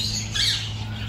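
A tiny baby bird squawks with a shrill, continuous high call in a park garden in Bournemouth, close and fairly loud over a low background hum.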